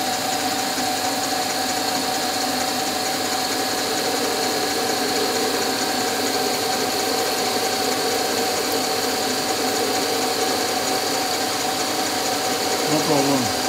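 A Smarty AT-300 machine runs steadily at 921 RPM, a constant close mechanical hum with a faint whine that holds unchanged throughout, with a brief rustle near the end.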